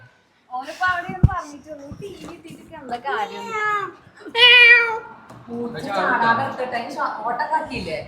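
A house cat meows a few times up close, mixed in with children talking and laughing nearby.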